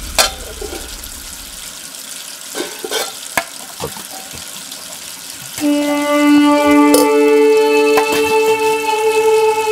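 Water pours steadily into a vessel nearby, a rising, even stream with a tonal ring as it fills, following scattered clinks and knocks in a Tamil film scene.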